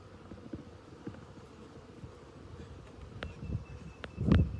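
Honeybees hum faintly and steadily around a hive after a swarm, with soft scattered knocks and a few louder thumps near the end.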